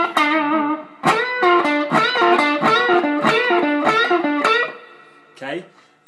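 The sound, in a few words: electric guitar string bend phrase in B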